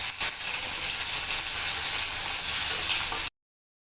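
Ginger garlic paste sautés in a hot pan for making egg keema, giving a loud, dense, continuous sizzling hiss close up, with no speech, before cutting off abruptly.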